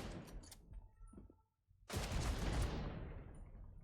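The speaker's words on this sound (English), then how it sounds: "Explosions and death." Gunfire and explosions in the video game The Division 2: a busy spread of shots and bursts, a brief near-silent gap, then a loud sustained blast that rumbles and slowly fades.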